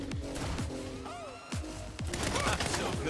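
Saints Row gunfire: rapid bursts of close, loud shots with sharp impacts and whizzing effects, over game noise, with someone talking briefly.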